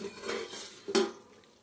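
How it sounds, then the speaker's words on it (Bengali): A lid is lifted off a pot of chicken cooking over low heat, giving one short metallic clank against a quiet kitchen background, with no talking. "এবার আমি ঢাকাটা খুলছি, এখনো লো হিটে ছিল।"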